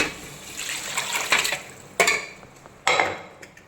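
Spiced masala water splashes and pours in uneven bursts, with a few sharper sloshes as it hits a metal pot of mutton curry up close.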